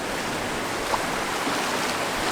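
A small river flows into the sea on a Phuket beach, giving a steady broadband rush of running water and gentle surf with no clear breaks.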